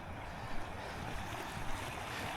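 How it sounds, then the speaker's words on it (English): A river swollen after heavy overnight rain rushes past as a steady, fairly faint broadband roar of moving water, with no voices. "river's flowing pretty good"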